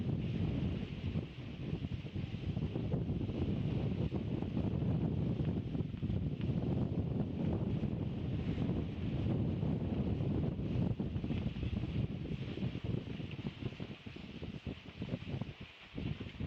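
Strong wind off the land roars steadily into the microphone at a yacht race finish, a constant buffeting rush with faint water noise beneath and no talking.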